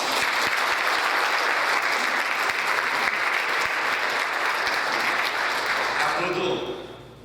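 An audience applauds a lecture by a former Korean unification minister, a dense, steady wash of clapping that holds strong for about six seconds before fading away.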